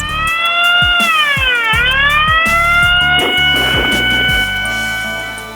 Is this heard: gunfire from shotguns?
no